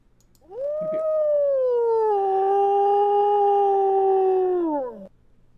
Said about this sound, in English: I do have wolf howls though.